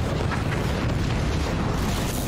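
A deep, rumbling 40mm cannon shot explosion in the video game Forts, filling the whole stretch, a heavy sustained boom with a low roar and no clear break.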